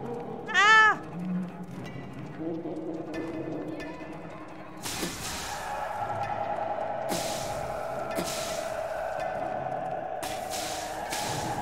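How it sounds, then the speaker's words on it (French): A cat in a video game meows once loudly and close, a rising-falling cry near the start, followed by quieter game ambience and soft whooshing background tones. "Oh non, le chat il est attaché."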